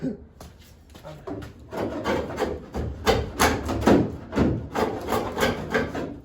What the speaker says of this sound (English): all I can think is to keep scraping